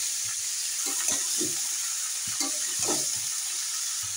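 Drumstick stems and potato pieces dropped into hot oil with panch phoron, garlic and pumpkin, sizzling loudly up close while a spoon stirs and scrapes the pan in several short bursts.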